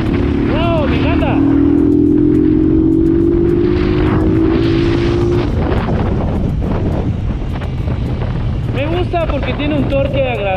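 A Sukida Stiff 150 motorcycle accelerates on a road, engine pitch climbing as it gathers speed under heavy wind rush against the microphone, with a rider's excited voice breaking in at the start and again near the end.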